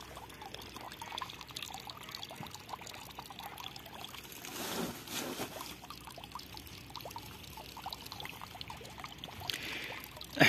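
Irrigation water pours and trickles steadily into a farm field with a gurgling, splashing texture, a continuous flow heard up close with no talking.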